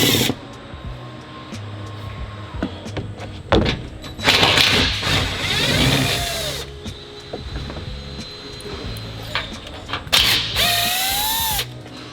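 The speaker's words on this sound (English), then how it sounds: "remove 7 12mm bolts to remove this front skid plate or undershroud" Bursts of a power ratchet or impact tool whirring and clattering on 12mm bolts holding the front skid plate of a 2016 or later Nissan Titan, with rising whines between pauses of mechanical clicks.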